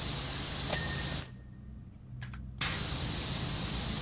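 A pressure washer in PowerWash Simulator 2 sprays in a steady, loud hiss that drops out for about a second and a half, then resumes at full strength, with no talking.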